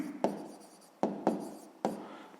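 A pen scratches on paper while someone writes out a sixth-grade maths exercise, making four short, crisp strokes at uneven intervals, close and alone.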